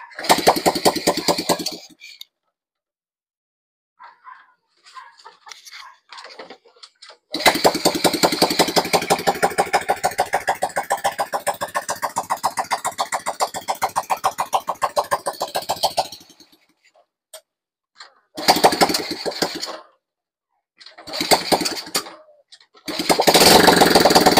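Suzuki Smash/Symbonus motorcycle running on a swapped XRM 110 cylinder, loud rapid engine chatter in several bursts separated by silent gaps, with one long sustained run in the middle.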